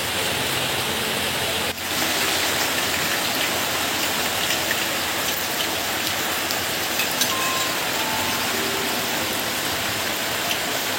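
Heavy rain pours steadily outdoors, a dense, unbroken wash of drops drumming on surfaces, loud and close, with one brief dip near the start and no voices.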